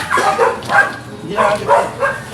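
A dog barks and yips in a quick series of short, close bursts, several in a row with brief gaps, fairly loud.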